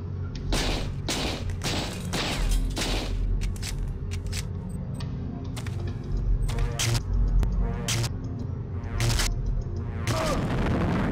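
Explosions in the video game System Shock 2 boom repeatedly in a rapid, dense sequence, loud sharp blasts of varying strength over a continuous rumbling background.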